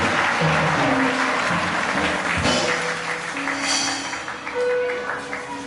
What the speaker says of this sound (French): nous acclamons très fort à notre Seigneur